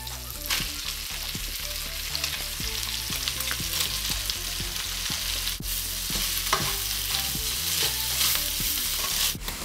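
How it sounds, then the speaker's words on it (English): Bacon and mushrooms sizzle and crackle steadily in a hot pan, with occasional stirring clicks and scrapes throughout. "While the bacon's just cooking there"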